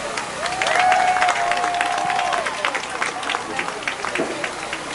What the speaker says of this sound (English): Give another cheer real quick for all the seniors.